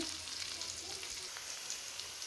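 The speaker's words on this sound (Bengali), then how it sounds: "এবার ভেজে নেব, ব্রাউন কালার করে নেব।" Chopped green chillies frying in a pan until brown, a soft, steady hiss and crackle of hot oil, faint and continuous without pause.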